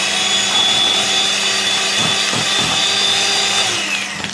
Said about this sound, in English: the butter is getting its body, it's whisking and getting its beautiful shape